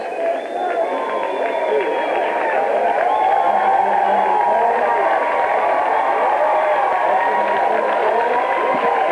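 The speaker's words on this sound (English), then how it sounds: "Mountlake Terrace's crowd cheering on their team here" A crowd at a high school basketball district tournament game roars steadily and loudly throughout, a continuous wash of cheering with a commentator talking over it.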